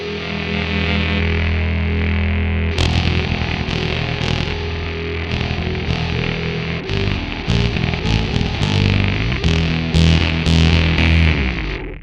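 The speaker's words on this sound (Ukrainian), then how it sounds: "синтезатор на одній лінії, і на другій лінії в нас саме бас такий перегружений" A heavily distorted, overdriven bass guitar line through a Line 6 POD X3 Live plays with synth layered on top, dense and loud throughout, with rhythmic stabs in the latter half.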